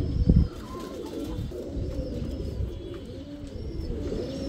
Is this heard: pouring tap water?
no